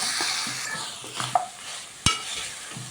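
Wheat rava chicken biryani being mixed in a pot, a soft scraping stir with low sizzling beneath, a few brief clinks of the spoon against the pot, and one sharp knock near the end.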